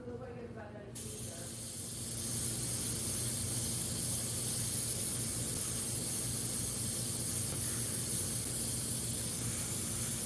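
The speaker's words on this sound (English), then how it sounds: "I'm going to try to airbrush" Airbrush spraying alcohol ink, a steady continuous hiss that starts after a brief quiet moment and holds loud and close without a break.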